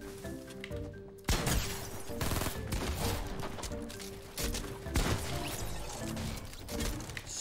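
Fortnite pump shotgun and other weapon fire during a match, a dense run of loud, sharp blasts with a sudden burst after a brief lull, over busy game music and effects.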